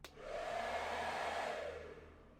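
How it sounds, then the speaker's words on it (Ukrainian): A professional hair dryer on its first setting, powered by a Bluetti AC70P portable power station, blows with a steady whooshing hum for a couple of seconds, close and fairly quiet, then begins to wind down. "Це такий більш професійний фен. Я його підключив і запускаємо перший режим"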